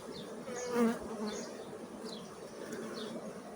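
Honeybees hum steadily on a hive frame of freshly drawn wax foundation, a continuous close buzz at moderate volume, with a few faint higher chirps in the background.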